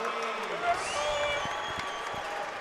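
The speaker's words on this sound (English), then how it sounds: "that got the crowd absolutely ignited here in the Cavelli Center" Pepperdine fans cheer and applaud in a steady, dense roar filling the Cavelli Center during a 2025 NCAA men's volleyball semifinal against Long Beach State, with some whistles rising above the noise.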